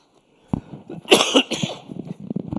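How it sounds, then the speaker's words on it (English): A harsh, nearby cough bursts out, followed by a couple more rough coughs and some breathy throat noises. "I just totally apologize for coughing my way through this thing."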